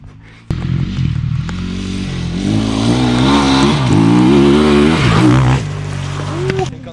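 Yamaha T-Max scooter accelerating hard on a timed run, its engine snapping on abruptly and then climbing in a loud, rising drone for several seconds before easing off, with voices in the background.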